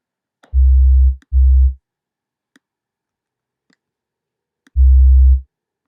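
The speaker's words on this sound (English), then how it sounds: "Distortion, just a little bit though." A deep sub bass synth note with a touch of distortion for a future bass track plays as three loud sustained hits, two close together then one after a gap, with faint clicks between and no voices.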